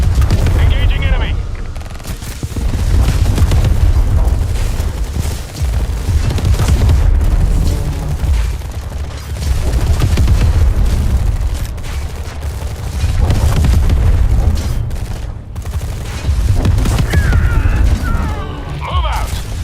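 Gunfire and explosions from the video game Tempest Rising form a dense, loud barrage of bursts and booms under shouted unit voice lines throughout.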